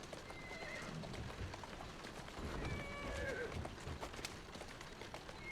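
A horse whinnies and hooves clip-clop in a video game, faint and mixed into a dense background of game noise and scattered sounds.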